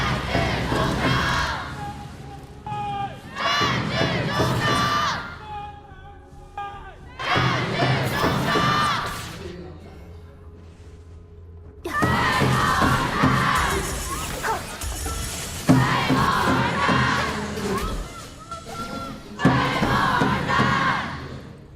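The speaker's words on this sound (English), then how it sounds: "But let's check out the crowd." Esports arena crowd at a KPL grand finals knockout match roaring and chanting in loud surging bursts, separated by brief quieter gaps with scattered crowd noise.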